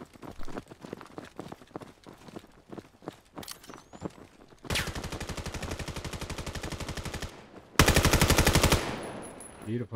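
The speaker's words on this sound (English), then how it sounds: "Beautiful shot by Cray right through the smoke." Gunfire in the tactical shooter Valorant during a qualifier match, scattered footsteps and single shots followed by two long, loud bursts of rapid automatic fire.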